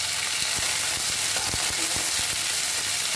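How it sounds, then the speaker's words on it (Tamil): Mochai beans (pithukkam paruppu) fry in hot oil with a steady, bright sizzle, broken by several sharp scraping taps of a spoon against the pan, close and alone. "நல்லா போட்டுட்டு எண்ணெயிலே கொஞ்சம் நல்லா ஃப்ரை பண்ணுங்கள்."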